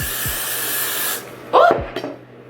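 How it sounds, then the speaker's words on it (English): A sustained hiss of hairspray from an aerosol can onto hair, close and loud, stopping abruptly, followed by a couple of short spray bursts. "Spray the perimeter."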